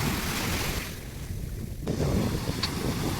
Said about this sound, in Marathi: लाट आहे ना खूप जोरात येत होत्या